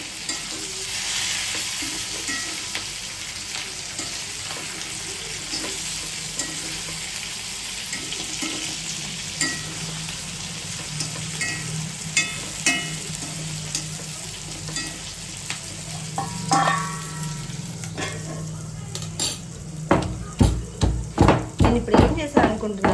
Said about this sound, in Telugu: ఆ వంకాయలను ఒకసారి అటు ఇటు కలిపాను, మాడకుండా ఉంటాను.